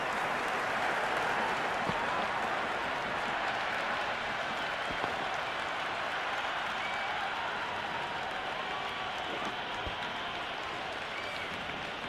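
Crowd in the cricket video game Cricket 26 roaring and applauding during an IPL match between LSG and DC, a dense steady wall of cheering and clapping that holds at an even level throughout.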